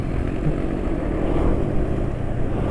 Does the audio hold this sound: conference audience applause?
no